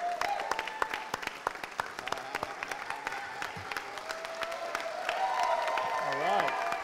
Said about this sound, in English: Let's give a round of applause for TD.